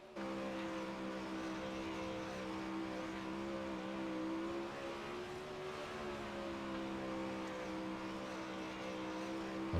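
Race cars in a heat race at Volusia roar around the track, a continuous droning engine note with a steady harmonic hum, fairly distant and even in level throughout, with no voices.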